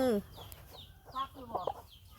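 Chickens cluck and chatter softly close by, a few short calls scattered over a quiet background with faint speech.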